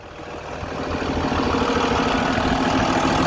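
Engine of a 2020 Jayco Seneca 37L motorhome idling, a steady low rumble with broad hiss that swells slightly at first and then holds even and moderately close.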